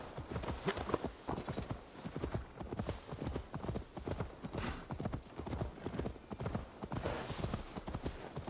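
Horse hooves clip-clop steadily and close in Assassin's Creed Valhalla, a continuous trotting rhythm with a faint whinny-like texture at times.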